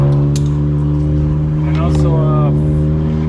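Honda Accord Sport 1.5T with a catted downpipe, front pipe, resonator delete and muffler delete, its exhaust droning steadily up close under someone talking.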